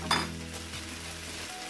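Vegetables hit a hot pan for a vegetarian Pad Thai with a quick clatter, then settle into a steady, fairly quiet sizzle, close up and with no talking over it.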